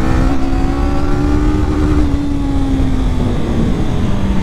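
A 2024 Honda CBR500R motorcycle accelerating on a mountain road, a loud close engine note holding a steady drone and slowly climbing in pitch, with heavy wind rush; nobody speaks.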